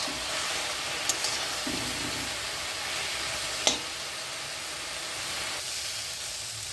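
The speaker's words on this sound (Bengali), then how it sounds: "এই পাট শাকটা কত সুন্দরভাবে ভাজা হয়ে গেছে, একদম শুকনো শুকনো করে ঝুড়ো ঝুড়োভাবে ভাজা হয়ে গেছে" Jute leaves (pat shak) frying crisp in a pan in a home kitchen: a steady, close, hissing sizzle with a couple of faint clicks of a utensil, no voices.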